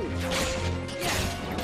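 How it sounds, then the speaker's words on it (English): Goofy Smash attack in Kingdom Hearts Chain of Memories: a loud crashing impact with a whooshing swing and clattering hits, dense and close over under two seconds, no voices. "Alright, time for the Goofy Smash!"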